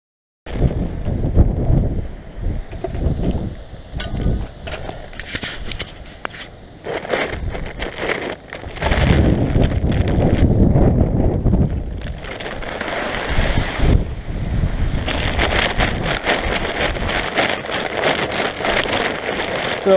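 Strong winter wind of about 20 mph buffets the microphone outdoors beside a wildlife food plot, a loud continuous roar and rumble that swells in gusts throughout.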